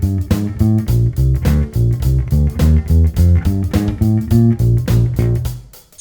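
Electric bass plays the second riff of a funk song at about 105 beats per minute, punchy syncopated notes in a steady groove, loud and close, alone and fading at the end.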